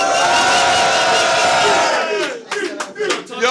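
A crowd at a French rap battle cheers, whoops and shouts loudly all at once, the roar thinning after a couple of seconds into scattered yells and claps.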